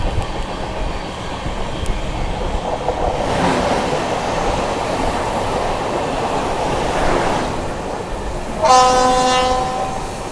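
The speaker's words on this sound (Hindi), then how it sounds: "बरसोई जंक्शन पहुंच रहे हैं दोस्तों, और सामने से डीएमयू आती हुई" A DMU train approaches through rain at Barsoi Junction, a steady rolling rumble over rain hiss that swells as it nears, with a horn sounding clearly near the end.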